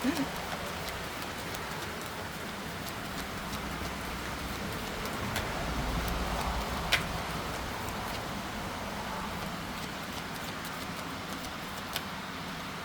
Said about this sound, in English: it's starting to rain harder and I don't want my phone to get wet.